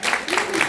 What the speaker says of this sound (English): Can we just clap for them again?